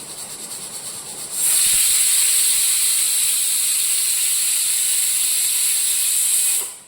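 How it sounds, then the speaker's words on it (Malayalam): Grated coconut roasts in a hot pan for a Kerala pumpkin erissery, giving a steady bright sizzling hiss that starts suddenly and holds for about five seconds before stopping. "ഇനി നമുക്ക് ഇതിനകത്ത് വേണ്ടത് തേങ്ങ ശകലം വറുത്തിടണം"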